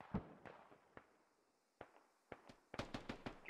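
Gunfire in the military shooter game Squad: scattered sharp single reports, some distant and faint, then a quicker burst of several louder cracks near the end.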